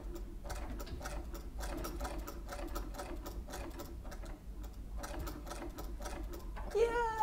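A treadle sewing machine runs close by with a steady, rhythmic clatter of repeated stitching bursts. A brief different sound comes at the very end.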